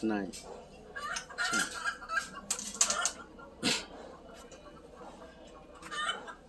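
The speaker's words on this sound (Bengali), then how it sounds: "মুরগিও ডাকে" Chickens cluck in short irregular bursts near a workshop where a bus body is being built, the calls fairly faint and intermittent with a quiet background.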